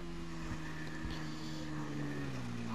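A fully upgraded motorcycle in GTA V online, racing down Mount Chiliad, holds a steady engine drone with sustained tonal hum that shifts gently in pitch, continuous and moderately quiet.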